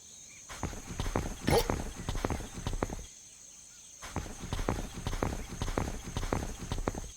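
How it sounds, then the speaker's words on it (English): Repeated hoof clip-clops from a herd of horses in the video game At The Gates, in two long bursts separated by a short pause, over a steady high-pitched background tone. "I found a vast herd of horses"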